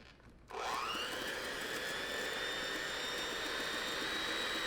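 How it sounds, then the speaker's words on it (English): Hand mixer whipping coffee, starting abruptly after a moment of quiet and then running as a steady, high, whirring motor whine that holds evenly throughout. "The other one being a hand mixer."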